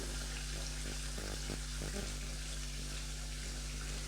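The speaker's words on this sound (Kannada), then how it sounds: "ಸ್ವಲ್ಪ ಹಾಗೆ ಫ್ರೈ ಆಗಲಿ ಇದು" Pepper powder frying in a pan for mushroom pepper masala, a steady close sizzle with a continuous low hum and a few faint knocks, no one speaking.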